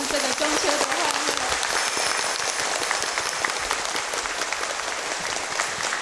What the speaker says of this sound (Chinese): 让我们再一次以热烈的掌声，谢谢师父为我们组织这个中秋的欢乐。